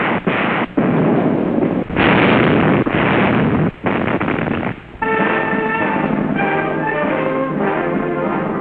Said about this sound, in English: Canadians and British launched the devastating barrage